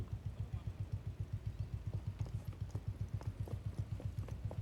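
The Marwari horse Raj Kiran moves in its gaited walk, hooves clip-clopping in a quick steady rhythm close by, quiet and even, with no talk.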